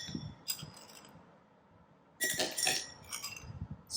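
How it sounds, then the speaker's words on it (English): Ice cubes clinking into a glass for Kashmiri iced tea, two bright bursts of clattering a couple of seconds apart, close and fairly quiet with little else around. "Now what I am doing is I am putting the ice cubes into the glass."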